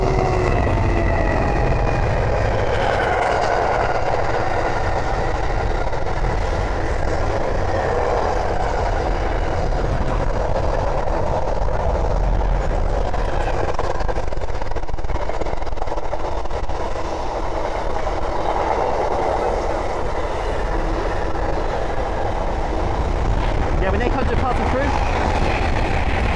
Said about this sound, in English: looks like a GBRF 66 coming through